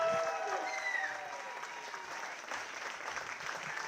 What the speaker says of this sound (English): I need you guys to start clapping. Start whooping, start cheering.